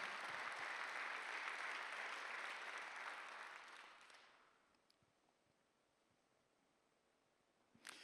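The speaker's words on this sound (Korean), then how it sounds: "믿는 사람만 박수 해보시오." A church congregation at a Sunday worship service claps together in a dense, loud burst lasting about four seconds, then fades away into near silence.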